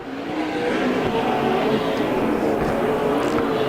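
Sprint cars race around the Canyon Speedway dirt oval in a USAC Southwest main event, engines roaring loud and steady throughout with a dense, continuous drone of several cars running in traffic.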